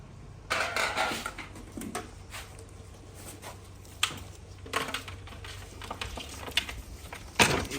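Meat is tipped into a pot of spice masala for Punjabi meat pickle, producing clattering metal pot and utensil knocks, scrapes and soft thuds, moderately close, with a low steady hum beneath.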